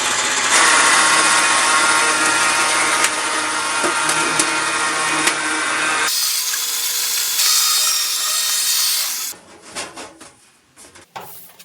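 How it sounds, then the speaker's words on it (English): Sheet metal fed through a lock former in a fabrication shop: a loud, steady mechanical grinding rumble that shifts to a thinner, higher whir about midway, then ends in a few scattered metallic clanks. "I like to cross break this before I run it through the lock former."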